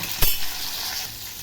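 Pomfret (paplet) fish frying in oil in a pan over low-to-medium heat, a steady soft sizzle with one brief clink of a utensil near the start, close and without talk.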